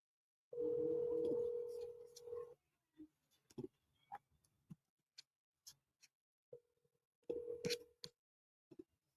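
Phone call routed to voicemail: a steady electronic tone near the start, then faint clicks and scattered short blips before a second tone burst, quiet and thin as if heard down a phone line.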